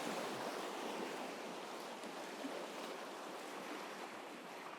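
Rushing river rapids on a northern Finnish river, Lismajoki or Ivalojoki, with broad continuous splashing and churning water close by, steady and loud with no voices.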